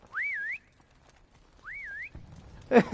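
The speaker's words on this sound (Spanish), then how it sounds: "Por aquí escucho un silbido" Two rising-and-falling whistled calls in a Call of Duty Remastered multiplayer match, each lasting about half a second and spaced a second apart, followed by a burst of louder game noise.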